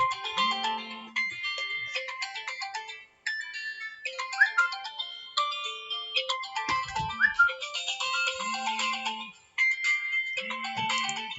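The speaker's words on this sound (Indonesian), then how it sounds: "Maaf tadi ada telepon." A phone ringtone plays a bright, repeating electronic melody for several seconds, loud and close, with short pauses between phrases and no talk over it.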